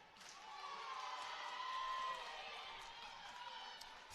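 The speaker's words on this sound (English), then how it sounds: "Lady Cougars crowd getting into it" Crowd at a girls' high school basketball playoff game, Lady Cougars fans in the stands cheering and shouting; a moderate, sustained swell of voices that builds toward the middle and eases, heard from courtside at some distance.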